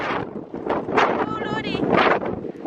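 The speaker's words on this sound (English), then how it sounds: "It is so windy." Strong wind sweeping across a tent campsite on a seaside farm, buffeting the microphone in rough, uneven rumbling gusts, with faint voices and whistling tones mixed in.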